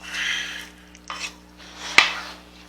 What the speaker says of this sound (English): I'm going to scrape down the sides and continue mixing